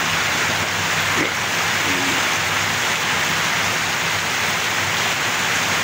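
Steady rain falls outdoors during a fishing outing, a dense, even hiss of drops on surfaces that holds unbroken and fairly loud throughout, with no voices.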